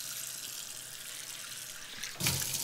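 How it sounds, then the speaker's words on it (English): Tap water runs over a cast-iron pan being rinsed, a faint steady hiss that swells into a louder, fuller splash near the end as the flow hits the pan. "I'm gonna rinse it one more time."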